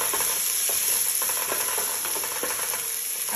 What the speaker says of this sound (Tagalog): At itong ginger at garlic. Haluin ko lang siya ng konti.